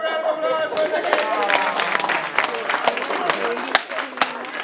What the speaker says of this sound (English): Give them a big round of applause for the game.